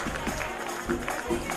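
A crowd at an International Women's Day event honouring mothers claps steadily in a dense, continuous wash, with a voice speaking over it throughout.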